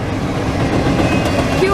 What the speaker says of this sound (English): The block of Tropicana juice cars and the back end of the train